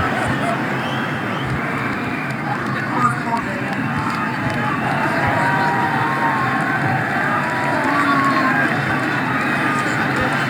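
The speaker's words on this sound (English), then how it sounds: "The crowd are giving him a warm round of applause" A cricket crowd at a Test match between India and Pakistan gives a batsman a warm, sustained round of applause, a steady dense wash of clapping and murmur throughout, with a commentator talking over it.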